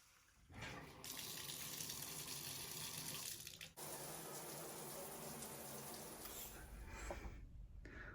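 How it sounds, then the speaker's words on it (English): Shower water runs steadily in a home bathroom, a loud continuous hiss that starts abruptly, briefly cuts out midway, then resumes and carries on alone. "I'm gonna take a shower"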